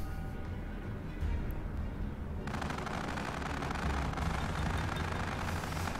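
Battleship guns fire in the video game World of Warships, aboard the Arkansas Beta, as muffled booms followed by a sustained, fairly faint roar of naval gunfire.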